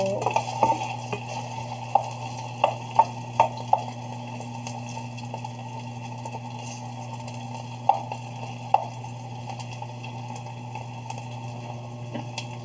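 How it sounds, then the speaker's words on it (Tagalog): Okra stirring in a hot pan makes a quiet, steady sizzle under a low hum, with scattered spatula taps clustered early and a couple more later on. "Yan po ang okra natin. Haluin lang natin hanggang maluto."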